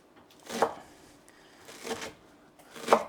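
Knife chopping through two bunches of cilantro on a cutting board for a rough cut: three separate crisp bursts of chopping, spaced about a second apart, fairly close, with quiet gaps between and no talking.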